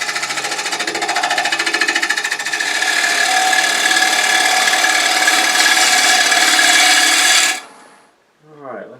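A 1/2 inch gouge cuts wood on a lathe while turning a jewelry box with partitions, a loud, steady rasping scrape with a rhythmic flutter that runs continuously for several seconds, then stops abruptly, leaving a brief quiet tail.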